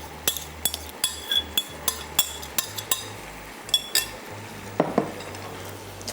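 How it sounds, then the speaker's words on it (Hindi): Beef frying in a pan with sauces, a soft background sizzle broken by repeated sharp clinks and scrapes of a utensil against the pan in an irregular rhythm. "तो चलें यहाँ पर बीफ को रख देते हैं कुक होने के लिए"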